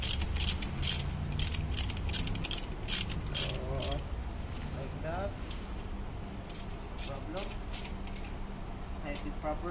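A ratchet tightening a nut over a lock washer on a starter relay terminal, giving bursts of quick metallic clicks close by, with a person talking over them.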